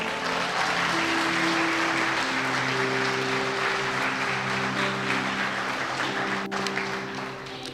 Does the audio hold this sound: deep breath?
no